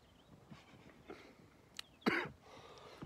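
Soft, faint throat clearing gives way to one sharp, close cough near the end, heard in a quiet outdoor setting by a lake.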